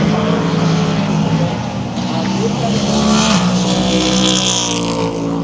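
Race cars roaring past at the Rolex 24 endurance race, with loud sustained engine tones that rise and fall as cars pass, and a higher whine building toward the end; talk runs underneath.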